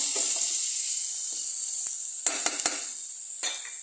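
Chopped onion sautés in olive oil in a home pan, giving a steady close sizzle with a few sharp crackles and pops scattered through it.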